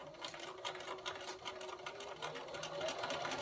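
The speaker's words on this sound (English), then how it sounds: "it's time to go over to the sewing machine and sew the row together" A sewing machine runs steadily, stitching the rows of a nine-patch pillow together with a 1/2-inch seam allowance, its close, continuous whir pulsing with rapid needle strokes.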